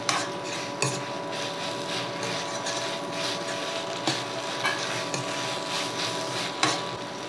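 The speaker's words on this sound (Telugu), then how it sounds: "ఒకసారి వేయించుకుంటున్నాను నువ్వులు." Sesame seeds roasting in a pan while making ridge gourd peel chutney, with scattered metallic clinks and scrapes of a spoon stirring against the pan over a steady low hum.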